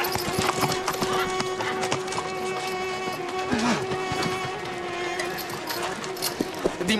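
Horse hooves gallop and clatter in a rapid, continuous clip-clop, loud and close, with a tonal hum and a few brief whinny-like sounds mixed in behind.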